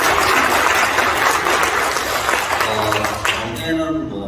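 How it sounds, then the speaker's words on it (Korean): Audience applause at a business presentation on opening a prepaid phone dealership, dense steady clapping filling the whole stretch and thinning slightly toward the end. "박수 한번 주세요."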